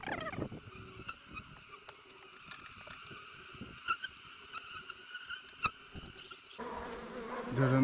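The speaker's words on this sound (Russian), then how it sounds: "Ну, остальных пчелок сейчас струсим." Honey bees buzzing around a hive frame as the last of them are shaken off, a faint steady hum with scattered louder passes close by, no talk.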